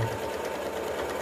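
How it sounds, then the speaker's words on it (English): A sewing machine stitches a seam on a quilt house block, a steady close mechanical whir with rapid needle rhythm running throughout the short stretch. "We're going to sew down"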